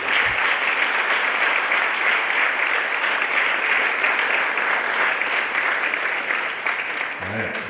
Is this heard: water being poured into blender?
no